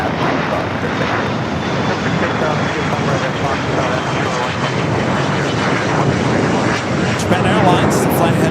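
Airliner jet engines roaring at Los Angeles LAX airport, a loud, steady, broadband rumble that holds for the whole stretch without letting up.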